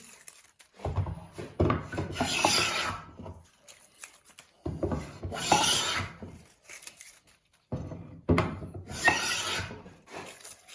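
A Record 778 rebate plane is pushed along wood in three long rasping strokes, each a close scraping shave separated by short pauses, with no speech.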